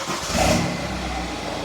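A 2013 BMW F10 car engine starting with a short rising rev that settles into a steady idle rumble, close and fairly loud with no voices.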